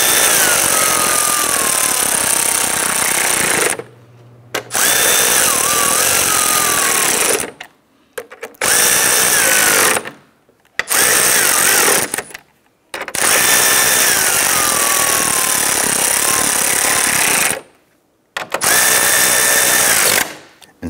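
A power drill snugs screws into the plastic front grille trim of a 2011-2019 Ford Explorer, running in loud, close bursts of a few seconds each, separated by short silent pauses.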